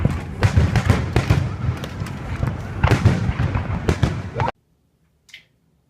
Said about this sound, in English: So stay tuned and enjoy the fireworks.